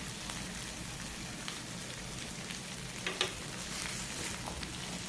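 Onion, potato and a large carrot frying in a pan, a quiet steady sizzle with faint crackles and a brief stir clatter midway, no voices.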